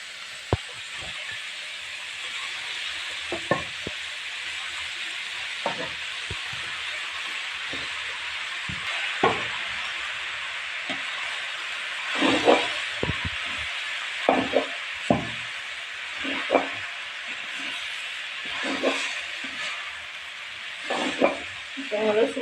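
Wheat flour puttu mixture stirred in a pan, a steady hiss and sizzle with irregular scraping knocks that cluster more densely toward the end, close and moderately loud with no talk.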